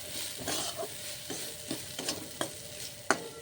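A spoon scrapes and stirs through frying lentils and vegetable spice mix in a pan, with a string of distinct clanks and scrapes over a soft sizzle and one sharp knock near the end.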